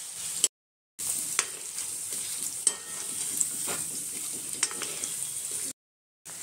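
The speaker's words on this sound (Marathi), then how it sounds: "थोडंसं असं मस्त लालसर थोडंसं भाजून घ्यायचं आपल्याला, जास्त लाल नाही होऊ द्यायचं" Paneer being lightly fried and stirred in a pan, a steady close sizzle with scraping and occasional clicks of the utensil, broken by two short silent gaps.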